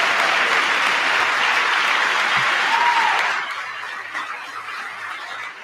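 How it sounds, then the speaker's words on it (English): Applause fills the chamber during a presidential address to Congress, dense and steady for about three seconds before thinning out and fading to scattered, quieter sound. "There's a couple of people clapping over there."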